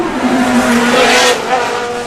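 A drift car slides into a corner at a British Drift Championships round at Teesside, with a loud, sustained tire squeal over the roaring engine, close and without talk.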